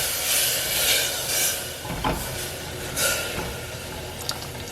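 About three-quarters of a cup of water poured into a cooking pot for pumpkin idly and sambar, a close, steady splashing hiss with a few brief surges.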